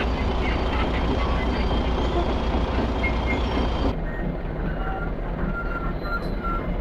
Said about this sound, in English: Sounds like a proper track layer.